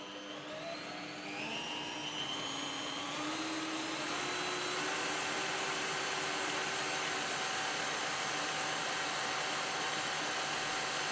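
A Bosch PBD 40 benchtop drill press runs at speed setting 2, spinning up with a rising motor whine and then settling into a steady, loud, continuous hum with a broad whirring noise, heard alone.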